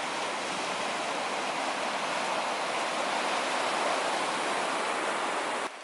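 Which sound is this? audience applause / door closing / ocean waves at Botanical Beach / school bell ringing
ocean waves at Botanical Beach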